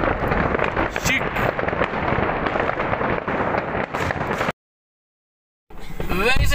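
Fireworks going off on New Year's Eve: a dense, continuous roar of crackling bursts and bangs that cuts out to silence, then returns with whistling rockets, all loud and close, with people's voices mixed in.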